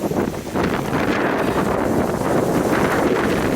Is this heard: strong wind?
yes